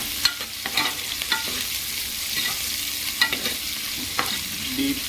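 Onions fry in a pan with oil, sizzling steadily and fairly near, with frequent scraping clicks of a spoon stirring them around.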